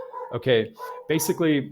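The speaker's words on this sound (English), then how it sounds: "sorry about the dogs" Neighbours' dogs bark in a few short, sharp bursts close by, overlapping someone talking indoors.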